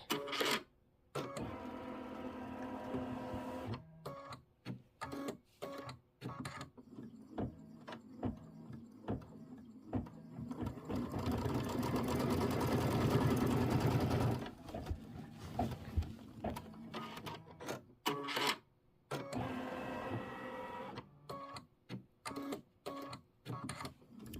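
A home embroidery machine stitches a trim placement line on a quilt square, a steady rapid mechanical whirr that comes in bursts separated by short pauses, with a louder sustained run in the middle.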